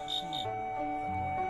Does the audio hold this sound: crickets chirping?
yes